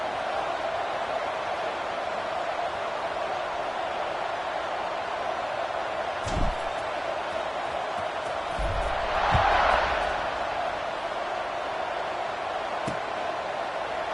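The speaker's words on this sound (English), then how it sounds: "this crowd is buzzing after that last score" A football stadium crowd buzzes during a college game between the Gators and Ole Miss, a broad, continuous roar of distant voices with a brief swell near the end.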